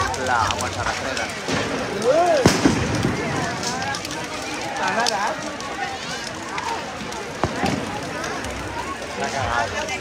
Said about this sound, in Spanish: dentro de la hoguera han puesto petardos